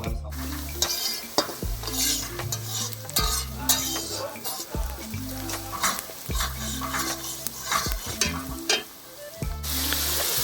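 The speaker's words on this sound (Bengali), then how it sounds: "এবার পিকনিকের মেন আকর্ষণ খাসির মাংস রান্না শুরু হচ্ছে।" Goat curry for a picnic stirred in a large pot, the spoon knocking and scraping the metal in a steady repeating rhythm over a continuous loud sizzle, close and without talk.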